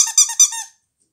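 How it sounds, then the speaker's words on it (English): A Halloween-themed squeaky dog toy ball gives two loud, high, close squeaks in quick succession, then falls silent. "but Ruby loves a squeaky ball"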